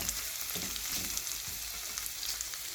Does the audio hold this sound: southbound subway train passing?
no